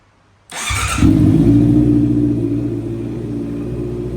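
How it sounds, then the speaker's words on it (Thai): A 2018 Honda CB650R motorcycle with a full titanium JP exhaust fires up after a brief starter whir, then settles into a loud, steady, throaty idle close by, alone with no talk. "มาฟังคลิปสตาร์ทกันนะครับผม"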